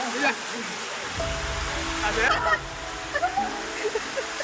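Steady, dense rain noise roars close by in Ratnagiri, Konkan, with a voice speaking intermittently over the downpour.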